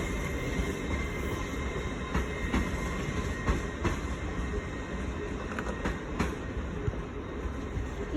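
A passenger train, a multiple-unit set of five or nine cars, rolls steadily past with a continuous rumble and faint rhythmic wheel clicks, moderately near and alone, with no talk.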